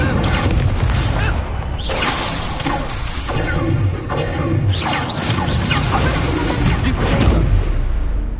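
Incendio fire spell cast in the wizarding game Hogwarts Legacy, loud repeated booming, whooshing fire blasts under dense continuous combat noise.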